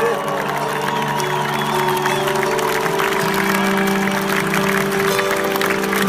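A large concert crowd at a show in Brussels applauds and cheers loudly and continuously, dense clapping mixed with whoops and shouts, with sustained tones from the stage underneath.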